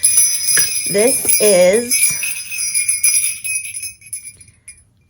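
A suede ornament hung with jingle bells, shaken so the bells ring bright and sustained over the first couple of seconds, fading as a voice speaks briefly.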